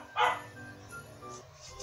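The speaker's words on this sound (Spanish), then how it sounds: "Quería saber por qué ladraba mi perrito." A small pet dog barks indoors, one sharp nearby bark followed by fainter yips and whimpers against a quiet room.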